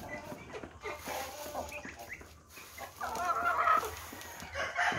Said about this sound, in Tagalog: Ito na mga manok kumanta sinso.